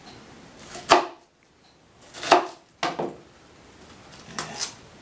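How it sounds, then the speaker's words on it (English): A knife cuts the core out of a halved cabbage for sauerkraut in three or four crisp, separate chopping strokes, close and clear with quiet gaps between them. "I'm going to cut out the core."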